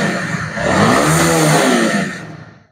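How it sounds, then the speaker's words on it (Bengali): Honda CBR 150R Repsol motorcycle engine revved by hand at a standstill, rising and falling in pitch in one loud, smooth throttle sweep that fades near the end, with no talking. "খুবই সুন্দরভাবে আরপিএম উঠছে এবং নামতেছে। পাশাপাশি ইঞ্জিনের সাউন্ডও কিন্তু অনেক অনেক সুন্দর হয়ে গেছে"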